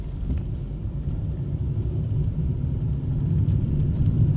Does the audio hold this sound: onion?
no